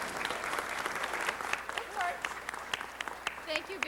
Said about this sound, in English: If we could give her a round of applause for Mediation Day in Los Angeles.